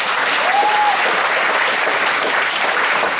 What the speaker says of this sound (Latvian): Aplausi Dženīme!